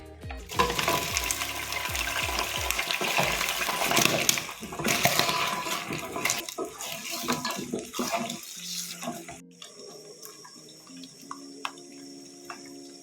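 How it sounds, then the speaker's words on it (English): Beef browns in hot oil for pilau, giving a loud, steady, broadband sizzle that crackles for several seconds, then drops away sharply to a much quieter, thinner hiss. "Once the oil is hot enough, we are first going to brown our beef."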